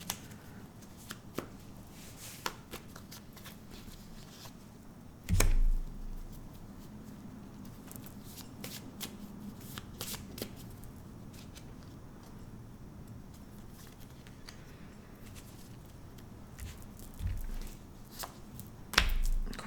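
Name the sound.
tarot cards being handled and laid down to cover others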